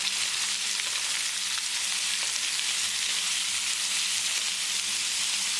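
Diced onions and vegetables stir-fried with ginger and garlic give a dense, constant, loud sizzle with little variation, like a steady hiss of hot oil.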